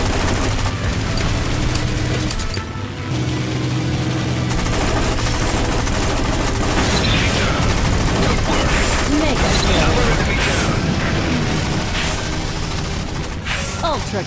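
Machine guns rattle in rapid bursts during a Tiger Moth biplane dogfight game, dense and loud over a droning engine and mechanical clatter, with a brief lull near the start.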